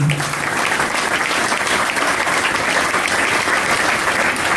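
Sustained applause from the audience at an awards ceremony, a dense, steady wash of many hands clapping close and loud throughout, with no voices standing out.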